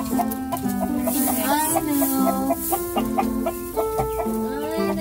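A backyard hen clucks repeatedly in agitated, rhythmic bursts, close and loud, as her eggs are taken from her.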